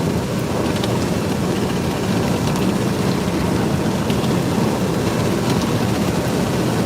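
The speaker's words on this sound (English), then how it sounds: "Start to get some hailstones falling here" Hailstones fall in a supercell thunderstorm on the Nebraska Panhandle, making a dense, loud, continuous patter with scattered sharp impacts over a low rumbling roar.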